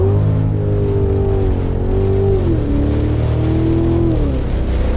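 Cadillac CTS-V engine revving hard while the wheels spin on a wet road during a thunderstorm, a loud, continuous roar rising and falling in pitch, close and dominant with rain noise underneath.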